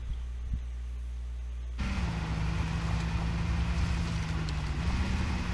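A glitched car engine in the video game H1Z1 keeps running after being switched off. It makes a steady low droning hum that grows louder and denser partway through and then holds level, with no talking.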